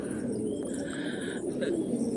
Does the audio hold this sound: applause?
no